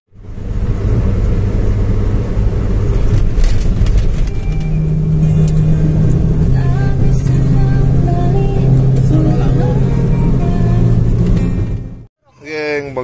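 A car accelerates with an engine rumble and a tone that climbs and shifts, loud and close. Voices talk over it before the sound cuts off briefly near the end.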